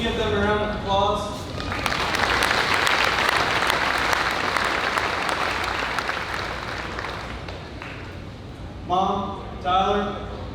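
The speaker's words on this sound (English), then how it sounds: "can you give them a round of applause?" An audience claps for the Youth and Ag Committee at the Missouri State Fair Sale of Champions, sustained applause for several seconds fading out, with a voice speaking briefly before and after over a PA.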